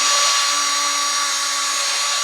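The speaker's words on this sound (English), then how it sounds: "You can hear it grind, and then the grind noise goes away because it pushes the grind compound away from the valve seat." Steady high-pitched whine of a power drill spinning an engine valve against its seat with grinding compound, cylinder head work on a 1989 Freightliner cabover, with a loud constant tone and no voices.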